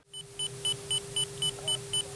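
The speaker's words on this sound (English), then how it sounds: "when the missile goes Pitbull, the sound is very obvious, having a rapid continuous beep with blinking circle inside of the diamond around the M." Falcon BMS F-16 radar warning receiver Pitbull alert for an active radar missile: a rapid, evenly spaced run of about nine high electronic beeps over a steady cockpit hum, clear and continuous.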